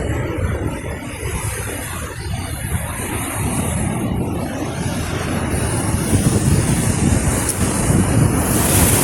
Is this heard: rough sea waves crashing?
yes